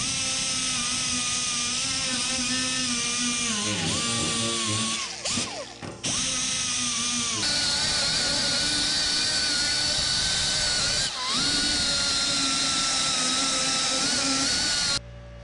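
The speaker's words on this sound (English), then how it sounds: "I've got a ball nose carbide burr in a die grinder to remove the bulk of the material" A die grinder fitted with a ball nose carbide burr grinds down sheet metal during repairs on a Lincoln Electric arc welder, a loud steady high-pitched whine that dips briefly twice as the burr bites, with no talking.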